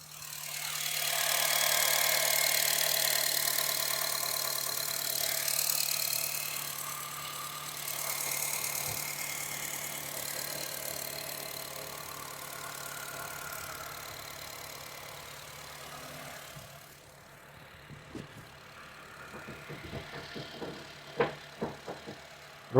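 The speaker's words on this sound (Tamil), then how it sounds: "இந்த வண்டியோட இன்ஜின் சவுண்டு அந்த மைக்கை பக்கத்தில் வச்சு நான் உங்களுக்கு காட்டுறேன்" A car engine idles with a steady low hum and faint hiss, then fades, leaving a few scattered knocks and clicks near the end.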